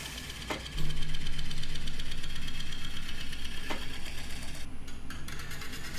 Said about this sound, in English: just using the negative rake scraper, probably one of my favorite turning tools.